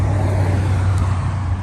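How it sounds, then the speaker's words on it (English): Loud road traffic with cars passing nearby, a constant heavy engine and tyre rumble, steady and close, with no voices over it. "These cars are loud."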